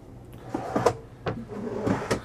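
Drawers in a 2023 Newmar New Aire 3547 motorhome slide open and shut in quick succession, several short rolling thuds and clunks close by with brief pauses between.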